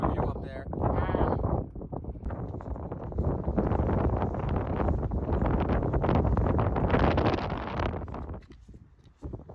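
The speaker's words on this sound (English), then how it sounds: "it's very windy" Strong wind roars and buffets the microphone almost continuously on Diamond Hill in Connemara National Park, Ireland, a loud rumbling gusty blast that eases off near the end.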